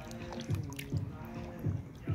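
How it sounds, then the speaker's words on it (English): Water dripping off soaked clothes beside a warm outdoor pool, with a few distinct drips and splats spaced about half a second apart, close and fairly clear. "Water dripping."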